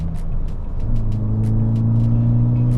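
A Volkswagen MK6 GTI fitted with billet aluminum shifter bushings rumbling from inside the cabin as it changes gears, a steady low engine drone that drops and resettles in pitch, with faint periodic ticks above it.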